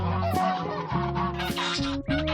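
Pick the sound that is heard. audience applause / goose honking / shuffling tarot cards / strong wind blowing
goose honking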